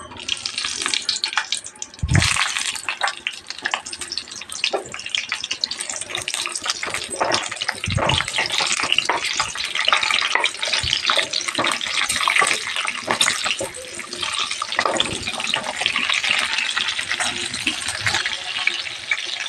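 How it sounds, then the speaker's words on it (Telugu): Green chillies sizzle and crackle steadily in hot oil while cooking a mirchi masala curry, a loud, continuous hiss with brief sharper bursts throughout and no talking. "నూనె వేడైందండి. ఇప్పుడు మిరపకాయలు వేస్తున్నాను."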